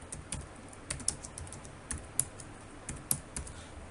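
HTML code is typed on a computer keyboard in irregular bursts of quiet, close key clicks, with a few sharper taps standing out over a faint background.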